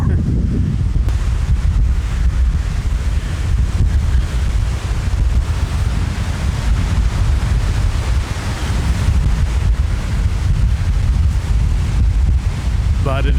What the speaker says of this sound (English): You can just see the waves whipping up.